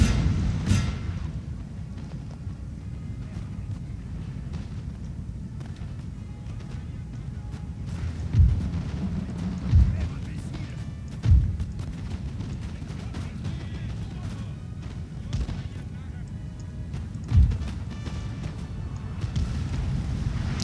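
Cannon fire in the Napoleonic strategy game 1805 European Campaign, with several deep, muffled booms spaced a few seconds apart over a constant low battlefield rumble, while someone talks throughout.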